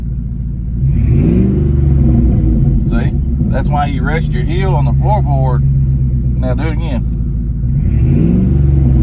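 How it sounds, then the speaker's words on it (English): A car engine idles with a low rumble, then revs up several times in rising surges before settling back; someone speaks briefly over it. "you hear the engine how it revs up?"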